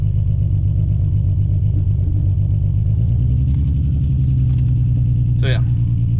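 A BMW F21 M135i with a freshly swapped ZF 8-speed xDrive gearbox runs with a loud, steady low engine rumble close by, and a voice talks over it.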